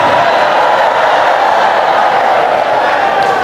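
An audience at an Islamic lecture breaks into loud, sustained applause, a dense wash of clapping from many hands that holds steady throughout.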